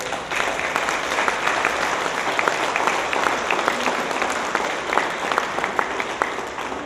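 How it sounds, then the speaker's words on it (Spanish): A church congregation applauding the Lord during a Spanish-language Passover sermon, a dense, steady wash of many hands clapping for several seconds, loud and continuous with no speech over it. "Dale un aplauso fuerte al Señor."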